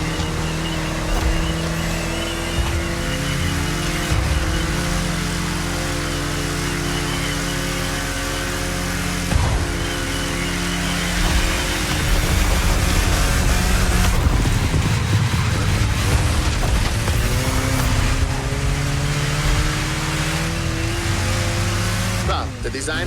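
In The Crew Motorfest, a car cruises on a scenic tour around Hawaii, its engine droning steadily and loud with gear-shift swells. Game music and a talking voice run over it throughout.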